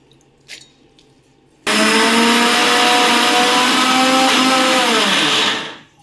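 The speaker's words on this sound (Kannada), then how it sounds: "ಆ ಉದ್ದಿನ ಬೇಳೆನ ನಾನು ಫಸ್ಟು ಇದನ್ನು ಮಿಕ್ಸಿ ಮಾಡ್ಕೊತೀನಿ ನಯಸ್ಸಾಗಿ" A mixer grinder grinding soaked urad dal whirs loudly and steadily for about four seconds after a faint knock, then winds down as it stops.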